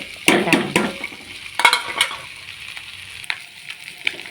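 A spoon scrapes and stirs egg with ground cumin frying in a pan for egg ghugni, with close clinks and knocks over a steady low sizzle, busier at first and then quieter.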